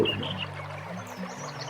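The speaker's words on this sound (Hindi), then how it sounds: "एक छोटी सी जहाँ से वाटर स्ट्रीम बह रही है उसकी आवाज़।" Small water stream flowing near Raghupur Fort, a faint continuous trickle and gurgle in the background with a couple of distant bird chirps and no talking.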